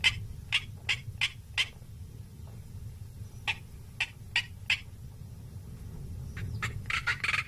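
A male black korhaan gives a series of loud, rasping calls in quick repeated bursts, pausing, then calling again faster, over a low rumbling background, in Kalahari dunes in the early morning.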